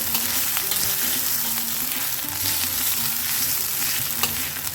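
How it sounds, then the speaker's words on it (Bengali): Ginger fries in a little oil in a pan, a dense, close sizzle with scraping and stirring throughout and no talking. "আদার কাঁচা গন্ধটা না যাওয়া পর্যন্ত আমরা এটাকে একটু ভেজে নেব"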